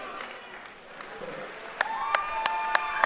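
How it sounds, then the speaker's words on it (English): Crowd applauding the fighters at an Eternal MMA 35 event, steady clapping under an announcer's voice, with sharp louder claps toward the end. "How about a round of applause for these two fellas?"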